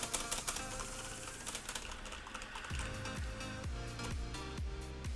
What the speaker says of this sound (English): now you can hear me typing something on my mechanical keyboard with my Cherry